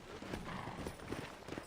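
Horse hooves in the video game Red Dead Redemption, a brief run of soft clip-clop steps heard close over a low background.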